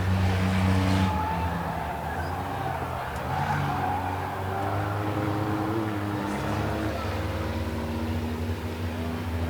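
Race cars in a dirt-track heat race roar past in a steady engine drone, with a louder pass early on and a continuous mix of revving motors throughout, announcer commentary faint or absent.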